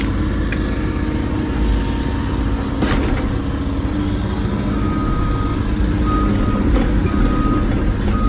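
A truck reverses with steady, repeated backup beeps on a rock-setting job site, where a Wacker Neuson ET 145 excavator works nearby; a continuous engine rumble runs loud throughout.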